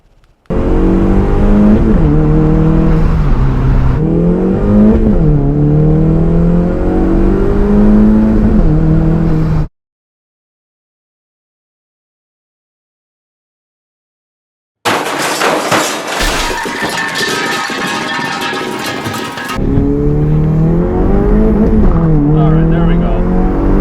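Honda CR-Z running at full boost, its engine note rising steadily in loud, sustained pulls, broken by a silent gap and a harsher burst of broadband roar before the drone returns.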